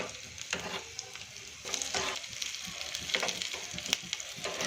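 Whole coriander and cumin seeds crackle and sizzle steadily in hot oil for rajma, with soft scraping bursts as the pan is stirred a few times, close and fairly loud.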